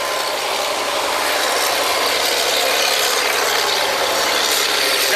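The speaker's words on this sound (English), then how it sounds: "Got two mud pumps going." Two mud pumps run on an oil drilling rig at North American Drilling Corporation's Brazelton Well #2A, giving a loud, continuous, close mechanical clatter and grinding hum that holds steady throughout with no voices.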